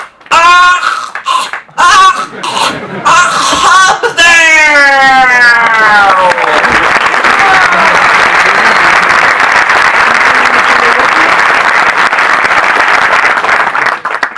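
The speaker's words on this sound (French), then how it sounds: "Faites un tonnerre d'applaudissements pour" Loud, sustained applause from a comedy open-mic audience greets a comedian taking the stage, following a stretch of voices and cheering at the start; the clapping swells into a dense, steady roar that holds to the end.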